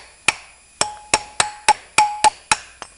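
A core plug is tapped into an engine block with a hammer, about nine sharp metallic strikes at an uneven pace, close and loud, some ringing briefly.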